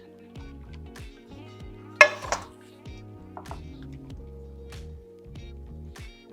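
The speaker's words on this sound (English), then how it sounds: "Stir it up a bit." Utensil scraping and clinking against a pan while organic pasta carbonara is stirred with its grease, with a sharp clatter near the middle and soft intermittent scrapes around it; no talking.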